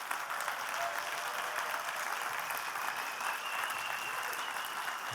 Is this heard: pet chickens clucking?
no